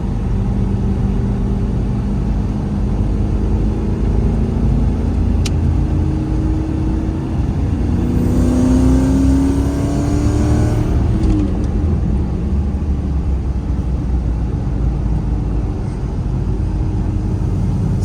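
A Toyota pickup with a 1UZ VVTi V8 engine driving through snow, its engine droning loud and steady from inside the cab, rising in pitch midway as it accelerates before settling back to a cruising hum.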